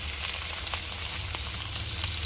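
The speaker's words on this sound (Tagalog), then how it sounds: "Ano kung magigisa tayo ng bawang sibuyas?" Garlic, onion and shrimp sauté in a hot pan for a home lunch, a constant close sizzle and crackle with a few soft stirring knocks, and no talking.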